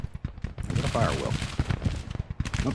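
Musket volley fire in the Grand Tactician: The Civil War strategy game, a dense crackle of many shots in quick succession, partly masked by a voice talking over it.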